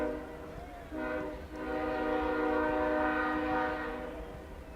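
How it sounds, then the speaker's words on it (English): Train horn blaring steadily from a distance near a boys' high school soccer game at Troy, a long sustained tone with a brief dip, over the low rumble of the passing train. "I swear, there's a train over there every 2 hours in this town, man."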